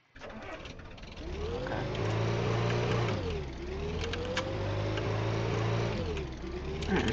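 Car engine in the Brick Rigs video game revving steadily for several seconds, pitch dipping briefly and climbing again, loud and close with no talk.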